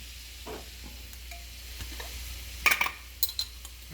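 Butter melting in a pan for shrimp alfredo, a soft sizzle under scraping and stirring, with a few sharp utensil clinks against the pan near the end, close and without talk.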